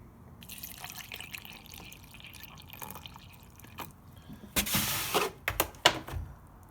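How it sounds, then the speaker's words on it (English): Water is poured from a container into a cup holding a scoop of sea moss gel, first a faint trickle and drips, then a louder splashing pour in short bursts near the end, close up, with no talking. "Pour water here."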